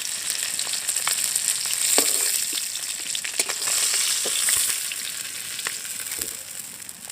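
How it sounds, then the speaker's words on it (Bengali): Fish frying in hot oil in a village kitchen, a steady loud sizzle with scattered pops and crackles throughout, no voices. "দু পিঠ ভালো করে ভেজে নিয়েছি"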